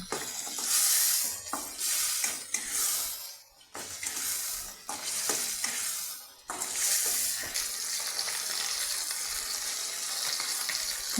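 Spice paste being sautéed in a pan for a potato and lentil dish, with a steady close sizzle and spatula scraping, broken by brief pauses, alone without talk.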